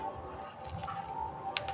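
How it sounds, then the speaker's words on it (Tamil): Water is added little by little and worked by hand into potato samosa dough, giving faint wet squishing and dripping sounds, quiet and close, with no speech. "கொஞ்சம் கொஞ்சமாக தண்ணி ஊற்றி"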